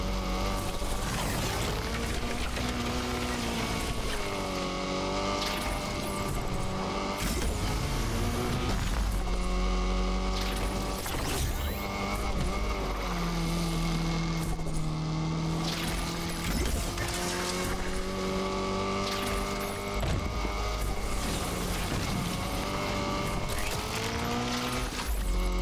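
Lamborghini Aventador SVJ Roadster from 2019 driven in the racing game Need for Speed Unbound, its engine roaring loud and constant with rising and falling revs and gear shifts throughout, music-like layering and no talk.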